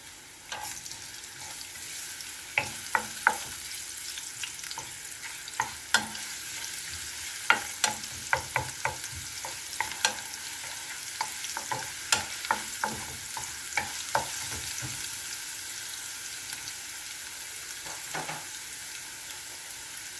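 Garlic fries in a pan until brown for bok choy with oyster sauce, a steady close sizzle under a series of sharp scraping stirs and taps of a utensil against the pan at irregular intervals, with no voices.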